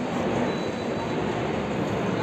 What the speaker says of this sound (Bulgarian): Не, това е бързия влак. Маркони Експрес.